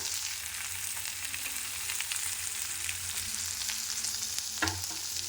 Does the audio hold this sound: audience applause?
no